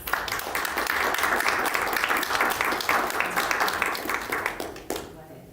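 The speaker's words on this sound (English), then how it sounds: "please give her a round of applause" An audience at a board meeting breaks into loud, dense applause of many hands that holds steady for about five seconds, then cuts off abruptly.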